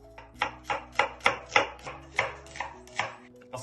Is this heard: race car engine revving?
no